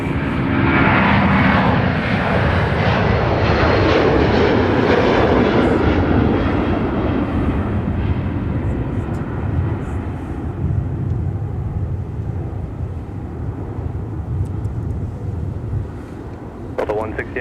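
Delta 160 Heavy, a widebody airliner, departs Minneapolis–St. Paul airport with a loud, broad jet roar that peaks early and slowly fades as it climbs away, wind buffeting the microphone and voices talking faintly beneath.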